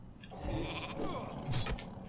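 A sheep made by a polymorph spell bleats in World of Warcraft Classic, giving two or three short, wavering bleats close by over faint combat noise.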